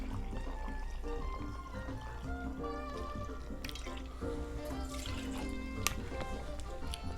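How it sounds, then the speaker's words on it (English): Dark rum from Barbados is poured for a cocktail, a soft liquid trickle heard faintly under steady background music. "Then we'll start with 2 ounces of dark rum from Barbados."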